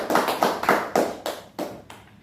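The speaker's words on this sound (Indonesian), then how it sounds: "Tepuk tangan dulu ya." A small group in a school group counselling session clapping hands together in about six distinct, evenly spaced bursts, close and fairly loud with no talk.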